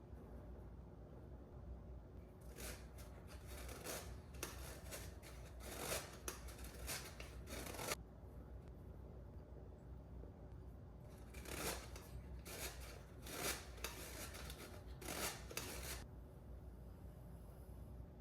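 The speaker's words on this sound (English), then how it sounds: "I'm going to go ahead and sift the flour" Flour sifted with a great-grandmother's vintage hand-crank sifter, rapid rhythmic scraping and rattling strokes in two long bursts separated by a pause, close and fairly soft over a faint background hiss.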